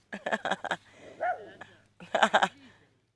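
A dog gives a couple of short, soft whining yips between bursts of a person talking nearby, fairly close and quiet.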